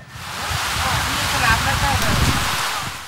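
Steady rain falls over a coastal seaport area in Bangladesh during a deep depression over the Bay of Bengal, a constant close hiss heard under a person talking.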